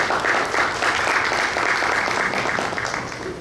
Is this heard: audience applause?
yes